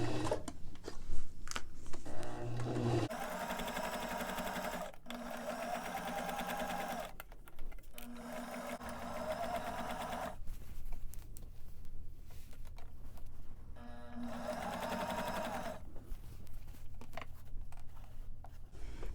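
A sewing machine stitches a 1/4 inch seam allowance around a dress while fitting pockets, running in several steady mechanical bursts separated by short pauses, close and fairly quiet.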